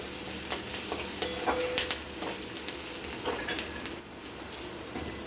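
Chopped onion frying in hot oil in a pan, a continuous sizzle broken by scraping stirs and clinks of a spatula against the metal, close up and without talk.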